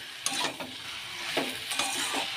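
Potato, green banana, pointed gourd and fried prawns are stir-fried in a pan, with a steady sizzle broken by scraping, clattering stirs at irregular intervals.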